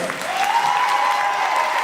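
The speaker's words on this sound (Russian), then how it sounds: "Аплодисменты еще раз." Audience applause at a university faculty day celebration for Crimean Tatar and Oriental philology, a dense, steady wash of clapping from a hall full of people with a faint sustained tone running beneath it.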